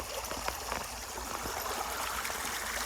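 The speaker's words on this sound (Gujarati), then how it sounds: "કેવું ખળખળ છે." Water gurgles and trickles steadily over a small waterfall along a washed-out path, a continuous close babbling stream with no voices.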